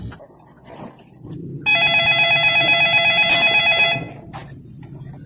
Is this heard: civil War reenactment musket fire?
no